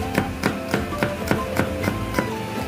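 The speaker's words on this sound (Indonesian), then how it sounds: "Kemudian ini akan kita iris sesuai selera aja ya." A knife chops through ingredients on a cutting board in a steady run of sharp, close knocks, about three per second, against a busy kitchen background with no voices.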